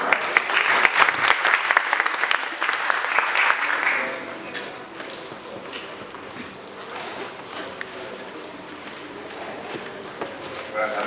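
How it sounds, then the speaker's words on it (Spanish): Audience applause at a medical conference on stroke care, loud dense clapping for the first four seconds that then fades into quieter scattered claps and room murmur. "Un aplauso."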